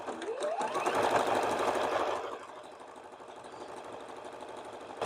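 A sewing machine stitches an apron with a clear presser foot, running in a steady close whir that is loudest for the first two seconds and then settles into a quieter, even hum.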